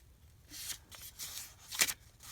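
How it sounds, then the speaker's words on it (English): Crafting paper for a Christmas junk journal being folded in half, a few short crisp rustles and one sharper crinkling crease, close and fairly quiet with nothing else around. "let's go ahead and fold him in half."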